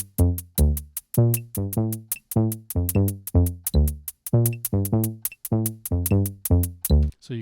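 A programmed drum beat plays, with crisp hi-hat ticks running in steady 16th notes over pulsing low kick and bass hits, a tight repeating groove heard clearly without voices.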